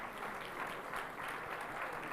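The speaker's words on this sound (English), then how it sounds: "A huge round of applause once again, please, ladies and gentlemen." Audience applause after a keynote at India Maritime Week 2025, a faint but continuous crowd clapping heard from a distance without speech.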